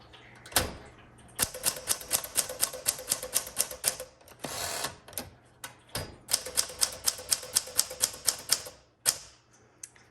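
Rapid mechanical clacking of the keys of a 1961 Smith Corona Sterling manual typewriter in two bursts, with a carriage-return ding and slide between them, close and crisp.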